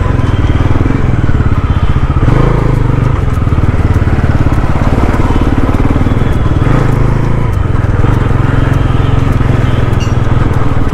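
A Bajaj Pulsar NS400Z motorcycle engine drones loudly and steadily while being ridden, with heavy wind rush throughout and no talk.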